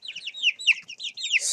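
Chickens pecking at mealworms give a rapid string of sharp, close clucks and chirpy calls in quick bursts, fairly soft and otherwise alone.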